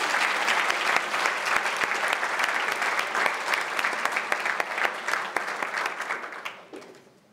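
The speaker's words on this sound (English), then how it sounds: "A warm round of applause, please." A room full of people at an award ceremony claps steadily for several seconds, a dense round of applause that fades out at the end.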